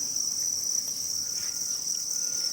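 Crickets chirp continuously in a breeding container, a steady high-pitched trill close to the microphone with a faint hiss beneath and no voices.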